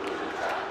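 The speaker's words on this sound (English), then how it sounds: "The crowd is on their feet." A wrestling arena crowd roars steadily on its feet before a main event between Mil Muertes and Blue Demon Jr., a dense, continuous wall of cheering and shouting with no clear gaps.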